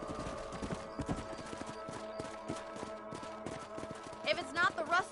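Horse hooves gallop in the video game Red Dead Redemption, a rapid rhythmic clip-clop on a ranch, with a couple of snorting whinnies toward the end.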